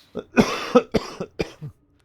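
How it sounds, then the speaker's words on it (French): A short fit of coughing, several harsh coughs in quick succession close to the microphone, then quiet. "j'ai encore une petite toux là, fatigante"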